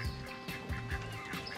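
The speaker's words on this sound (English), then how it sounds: "It's like 3 or 4 little baby ducks." Three or four baby ducks on some steps give a quick run of small, close quacks and peeps, with no voices.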